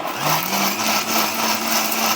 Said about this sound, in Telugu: ఇదే మిక్సీలో వేసుకొని పేస్ట్ చేసుకోవాలి మనం.